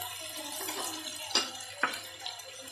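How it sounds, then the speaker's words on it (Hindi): Two cups of water poured into a cooking pot for a taro curry, a soft, steady splashing pour marked by two sharper splashes, fairly quiet with no talk. "अब मैं इसमें 2 प्याली पानी शामिल करूँगी"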